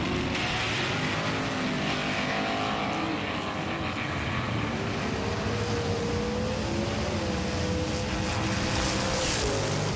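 Green Light Falcon and Lancer Evolution race cars in a drag battle, their engines roaring loudly and continuously for the full stretch with a rising, shifting engine tone.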